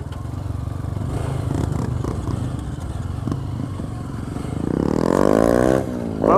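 A Yamaha Fazer motorcycle accelerating after crashing over a speed bump, engine droning steadily, then rising in a loud sweeping rev near the end, with some clatter.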